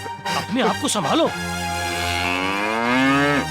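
A bull moos loudly and close by, a long, sustained low call with a wavering, drawn-out tone, following a short spoken line over the start.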